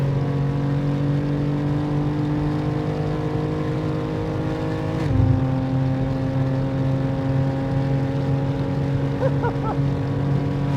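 A 711 hp BMW G87 M2 Clubsport drones steadily on the Nürburgring Nordschleife, heard from inside at sustained high revs, with a brief shift-like dip around the middle before the engine pulls on.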